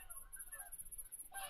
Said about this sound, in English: Oh, the geese are back in action